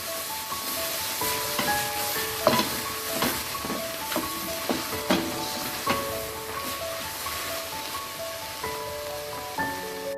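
A spoon stirs spaghetti in a pot of water after two teaspoons of salt go in, giving soft scraping and clinks over a steady hiss, with sharp clicks and a faint musical tone in the background.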